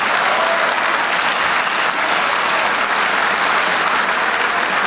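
An audience claps steadily and densely at a college's Zest and Dandiya 2014 event at Jagannath International Management School, a loud, unbroken wash of applause that runs for the whole stretch with no voice over it.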